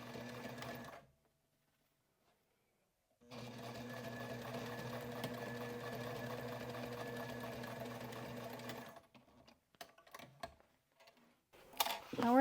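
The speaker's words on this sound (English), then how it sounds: "sew through all layers, back stitching well at the beginning and the end" A sewing machine runs steadily, stitching through several fabric layers of a sling, with a pause near the start and a few short bursts and clicks at the end.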